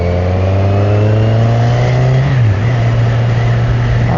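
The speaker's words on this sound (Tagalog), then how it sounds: "Traffic dito sa Road 30, Fahil Road." A motorbike engine, apparently a Kawasaki Z1000, holds a steady close drone in traffic on Road 30, Fahil Road, its pitch climbing and then dipping briefly midway before it levels out again.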